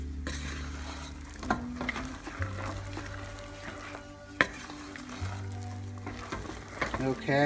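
Almonds sizzle and crackle in bubbling toffee cooking in a pan for almond roca, with steady frying hiss under repeated stirring scrapes and occasional sharp clinks of a utensil against the pot.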